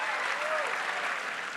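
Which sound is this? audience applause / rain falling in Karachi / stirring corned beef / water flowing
audience applause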